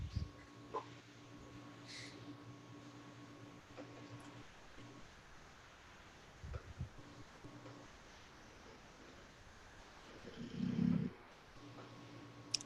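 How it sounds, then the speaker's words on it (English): Dog snoring somewhere in a quiet room, faint low rasping breaths that repeat at a slow rhythm, with one louder snore near the end. "Do I hear Roxy snoring?"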